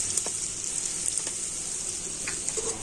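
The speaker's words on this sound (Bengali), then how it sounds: "আলু ভুজিয়া ভাজবে তো খুব বেশি সময় লাগে না" Potato batter for aloo bhujia, pressed through a plastic bottle, sizzles in hot oil with a constant bright crackle and scattered sharper pops, close up, with no voices.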